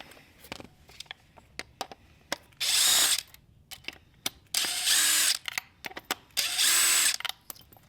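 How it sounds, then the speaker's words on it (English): A power drill whirs in three short bursts of a second or so while removing the controller bolts on a Talaria electric dirt bike, with scattered clicks and metallic clatter between them, close by. "we're going to put our drill on it just to save some time"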